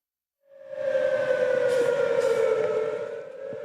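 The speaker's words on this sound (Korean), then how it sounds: "오늘 오후 2시 정각, 사이렌이 울리자" A civil defense air raid siren starts suddenly at 2 p.m. during a nationwide drill and holds a loud, steady wailing tone, sounding alone in open air.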